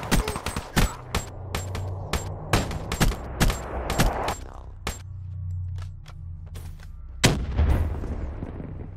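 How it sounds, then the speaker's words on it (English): Mobile artillery firing in a Call of Duty-style match on Nuketown, a rapid string of sharp loud booming shots in a steady rhythm, then a pause and one more blast, with talk over the top. "Mobile artillery getting the win."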